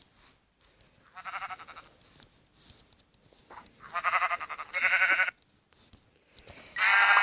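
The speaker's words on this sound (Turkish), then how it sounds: "Şurada bir tane daha koyun var." Blocky sheep in a Minecraft survival game bleat in several short, wavering bursts, each a few seconds apart with quiet gaps between, fairly close and clear, with no talking over them.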